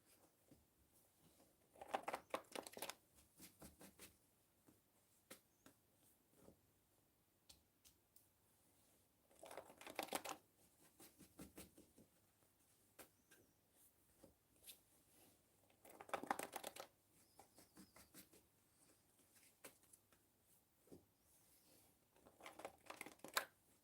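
Cards being shuffled for a basketball tabletop game, several short riffling bursts spaced apart with quiet handling sounds between, close and soft.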